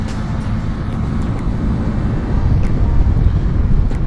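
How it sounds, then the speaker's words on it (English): A Sym Maxsym TL 508 scooter accelerates with a loud, rising engine drone heavily buffeted by wind rush, the roar building steadily over a few seconds as if recorded from the rider's position. "let's have a little bit of an acceleration test"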